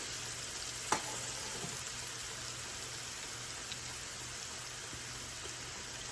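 Battered onion strings sizzle steadily in hot oil, a constant crackling hiss with a faint low hum and an occasional clink.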